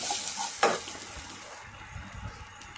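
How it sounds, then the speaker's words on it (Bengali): Spices and salt stirred in a hot pan, with a sharp scrape of the spoon early on followed by soft, low sizzling and light scraping that fade toward the end. "নুন দিয়ে একটু নেড়ে চেড়ে নিলাম"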